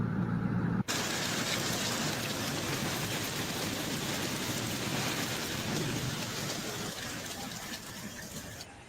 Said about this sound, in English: It's a lot of hail.